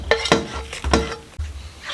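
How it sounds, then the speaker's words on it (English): Eggs for meatballs beaten with a fork in a bowl, several quick clicking strokes against the bowl in a loose rhythm, close and fairly loud, no talk. "Beat it with a fork."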